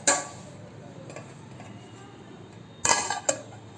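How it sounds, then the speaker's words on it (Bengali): A pot of rice cooking on a gas stove is stirred and then covered with a lid, giving a few metallic clinks and scrapes, a sharp clatter near the start and a cluster of knocks later, with quiet between. "এই অবস্থায় আমি নাড়িয়ে চাড়িয়ে এটাকে গ্যাসটা অফ করে দেবো, দিয়ে ঢাকনা চাপা দিয়ে দেবো"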